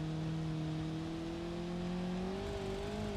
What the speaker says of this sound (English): Rod bearing's damaged. I don't know if you guys can hear that. It's ticking. It's knocking hard.